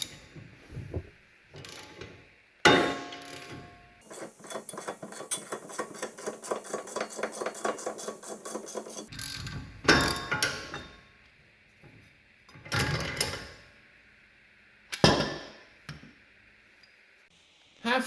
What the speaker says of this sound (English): I have a wrench holding the nut in the back while I turn the bolt.